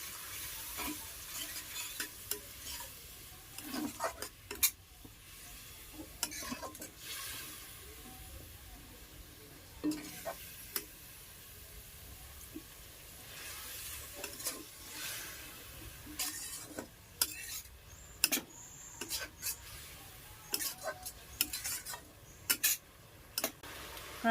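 Chicken masala with green chili paste sizzles steadily in a pan over a medium flame, with frequent sharp scrapes and clinks of a spoon stirring, close and without talking.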